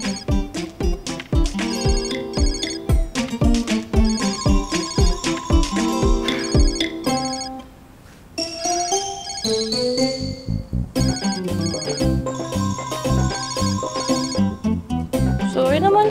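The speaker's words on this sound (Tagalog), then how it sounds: "Ang ingay na kasi ng cellphone mo, ring ng ring." A cellphone ringtone plays loudly and continuously for a long stretch, a bright looping melodic tune with a short pause near the middle before it resumes, with no voices over it.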